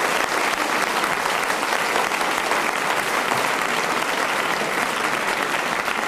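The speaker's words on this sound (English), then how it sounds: "So a big round of applause, John." Steady, dense applause from a studio audience at a radio comedy show recording, loud and continuous throughout with no break.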